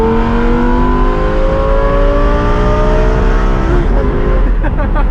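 A loud supercar accelerates on an open road, its engine note rising steadily through the gears with a strong continuous roar close by, shifting pitch near the end, with no talk.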